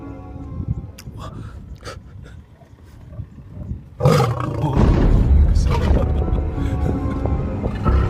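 A male lion on safari roars at nearby tourists, guarding a female: low rumbling growls and breaths at first, then a loud, deep, prolonged roar swelling up close and filling the second half.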